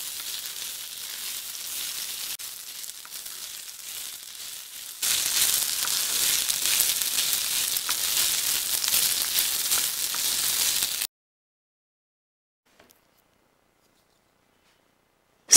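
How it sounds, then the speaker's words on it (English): Boiled rice frying with cooked gooseberries in a pan, a steady loud sizzle that grows more intense partway through, then cuts off into near silence. "fry the rice with the cooked gooseberries till the rice is mixed up properly with the gooseberries"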